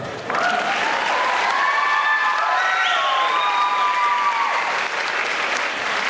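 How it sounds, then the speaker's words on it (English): Commencement audience applauding loudly with cheering and whistles, a steady dense wash of many hands that fills the whole stretch at even volume. "Yes, you can clap."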